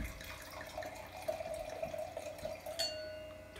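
Wine poured from a bottle into a wine glass, a steady close liquid trickle lasting a few seconds with a brief bright clink of glass near the end, no talking.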